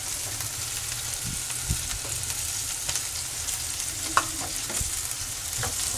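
Garlic frying in margarine or oil for a mung bean dish gives a steady sizzle, with occasional soft scrapes and taps from stirring and one sharper knock; no speech.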